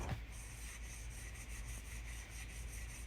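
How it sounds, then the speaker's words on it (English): Sandpaper rubs over dried joint compound on a Halloween-themed outdoor planter, a steady continuous scratchy hiss with faint rhythmic strokes, close and moderately quiet, with no voices. "Then I just take some sandpaper and sand it down"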